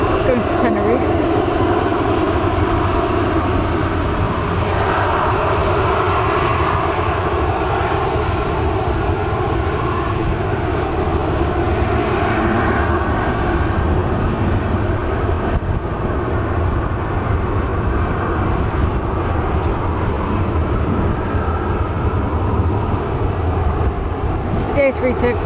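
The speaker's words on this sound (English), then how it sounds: "We've got a Jet 2 Airbus A321neo going to Tenerife." A Jet2 Airbus A321neo at Manchester Airport gives off a loud, sustained jet engine roar that holds steady throughout, with people talking over it.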